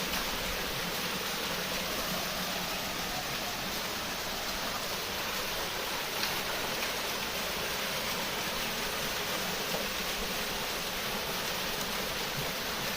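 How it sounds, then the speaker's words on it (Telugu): Water from a temple water source rushes and splashes continuously in a steady, broad roar, like a small cascade nearby, with no voices or other sounds. "వాటర్ ఫాల్స్ లాగా వస్తుంది చూడండి."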